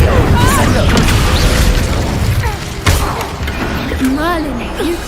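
Incendio fire spell cast in Hogwarts Legacy, a loud rushing whoosh and boom with a sharp burst partway through, mixed with game noise and a voice speaking over it.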